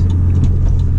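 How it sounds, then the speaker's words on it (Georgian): A 1998 Volvo S70 T5 with a turbocharged five-cylinder engine runs at a steady, close, loud drone, its low hum unbroken with a few faint rattles over it and no voices. "ამ 5 ცილინდრიანი ტურბირებული ძრავის ხმით."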